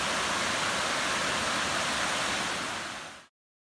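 Loud, dense roar of a West Virginia or Pennsylvania waterfall heard from above, a steady broadband rush that stays constant before cutting off abruptly near the end.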